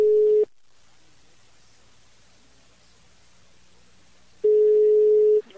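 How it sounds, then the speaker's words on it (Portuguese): A telephone ringback tone sounds during a prank call: one steady tone pulse, a long silent gap of about four seconds, then a second identical pulse, clear and alone. "Oi, tá chamando."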